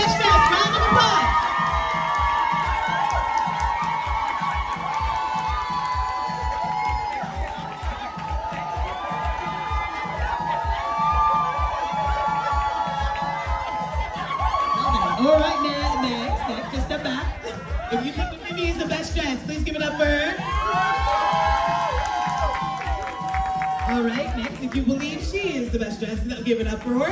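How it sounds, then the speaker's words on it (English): Crowd cheering and applauding at an International Women's Day best-dressed contest, loud whoops and chatter rising and falling over steady music, with a host talking. "If you think she's the best dress, round of applause."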